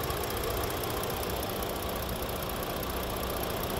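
A 2015 Ford Taurus Police Interceptor with a 3.7 liter engine idles steadily, a close, even, low mechanical hum with a faint ticking texture and no revving, heard alone without talk.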